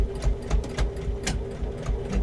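A sewing machine top stitches fabric with a close, rhythmic mechanical chatter and steady motor hum. It runs throughout the short stretch, with uneven thumps as the needle works through the cloth.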